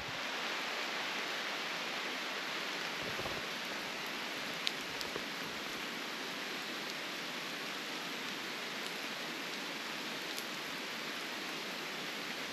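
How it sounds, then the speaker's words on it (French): Steady rain falls with a soft, even hiss, continuous and moderately distant, with an occasional faint drip or tap. "j'ai senti que ça allait pleuvoir un peu plus fort"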